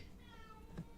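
A single faint cat meow rising briefly near the end, under steady low background hum.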